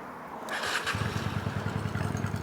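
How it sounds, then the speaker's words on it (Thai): A 1993 Honda Steed 400 motorcycle is cranked and fires up, then settles into a steady, loud, close idle with a rapid, even pulse. "แล้วสตาร์ทใหม่รอบดีกว่า จะได้รู้ว่ารถเราตาติดง่าย"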